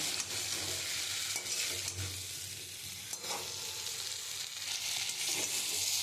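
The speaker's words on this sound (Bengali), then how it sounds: "আমি কাঁকরোলটা দিয়ে আমি ভালো করে কষিয়ে নিয়েছি" Pointed gourd fries with spices in plenty of oil for kakrol doi, a soft continuous sizzle broken by occasional stirring scrapes, fairly quiet and close.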